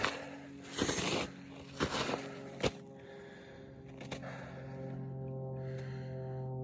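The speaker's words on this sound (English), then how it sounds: "snow is really crunchy." A few crunching footsteps on snow along a hunting trail, three or four brief bursts close by, over the steady low drone of a plane flying overhead.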